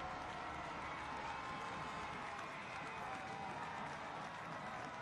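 Soccer fans at Trinity Health Stadium roar steadily after an 84th-minute Hartford Athletic goal against Louisville City FC, a dense, distant wash of cheering and clapping that holds even for the full stretch.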